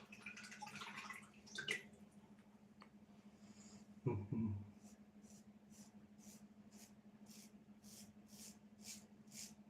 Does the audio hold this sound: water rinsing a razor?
yes